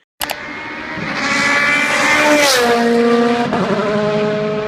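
A BMW Z4 GTE race car's cross-plane crank engine roars loud and close, a deep rumbling drone that rises in pitch then drops as it shifts gears.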